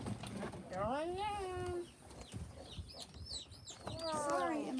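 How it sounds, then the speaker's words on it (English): A rooster calls nearby on a farm amid soft clucking and chirps from chickens, with people talking over and between the bird sounds. "That's one of our roosters."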